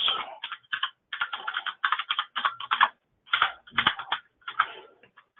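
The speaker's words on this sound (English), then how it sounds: "I've also got a very clicky keyboard, so if there's a lot of noise, I'm sorry" Rapid, clicky keyboard typing in uneven bursts with short pauses, close and fairly loud, no voices.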